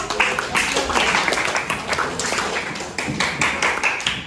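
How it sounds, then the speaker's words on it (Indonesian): A class of lower secondary students clapping hands in a social studies lesson, a busy uneven patter of many hands close by with some faint voices mixed in, lasting the whole few seconds. "kasih tepuk tangan dulu"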